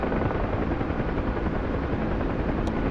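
A helicopter in a video game roars with a continuous, dense rotor and engine rumble that stays loud and close throughout, with a brief high click near the end.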